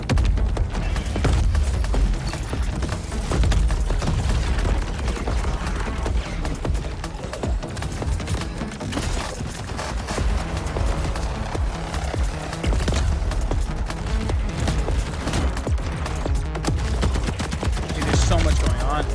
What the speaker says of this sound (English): I will say, I really like the shooting. I think the shooting is very solid.